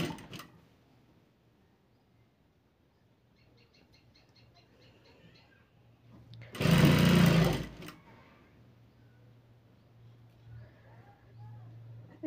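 A sewing machine stitches a size 32 long blouse with bracket sleeves in one loud whirring burst of about a second, surrounded by near silence and faint low hum.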